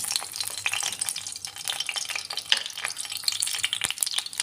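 Garlic cloves and hot chili peppers frying in hot oil in a pan, giving a steady close crackling sizzle with small pops and stirring sounds throughout.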